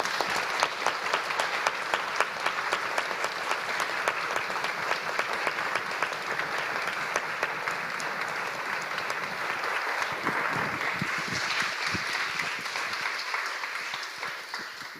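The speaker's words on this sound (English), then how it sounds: "let's just have one final round of applause for all of our speakers" A Cambridge Union debate audience claps for the speakers in a long, full round of applause that holds steady for the whole stretch, thinning a little toward the end.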